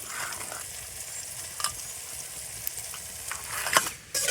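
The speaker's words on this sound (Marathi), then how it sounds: "आपला कांदा छान लालसर असा भाजून झालेला आहे" Chopped onion frying in oil over a wood-fired clay stove outdoors in a farm field, cooked until reddish; a steady, close sizzle runs throughout with a few brief stirring clicks and scrapes near the end, no voices.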